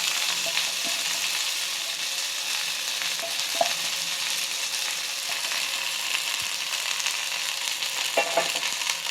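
Tamarind leaves fry in hot oil in a pan, giving a steady close sizzle with occasional stirring scrapes and small pops, with no talking.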